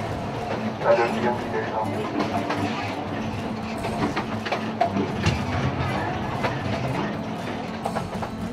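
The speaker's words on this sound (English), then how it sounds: "The train winds its way along the mountainside to the base of the dam." A battery-powered panorama railway train in Switzerland winds along a mountainside toward a dam, its wheels rumbling with steady clickety-clack and mechanical rattling, while a voice talks over it.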